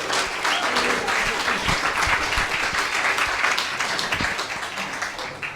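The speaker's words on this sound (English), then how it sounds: "Give him another round of applause, there he is." An audience at an album launch gives a warm round of applause, dense clapping close by that swells and then gradually tapers off toward the end.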